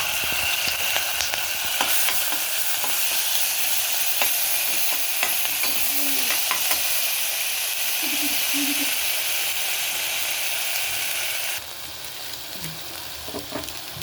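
Homemade ginger garlic paste fries in a pan of oil with a constant crackling sizzle. Stirring scrapes and faint clinks sound throughout, and the frying softens slightly near the end. No one speaks.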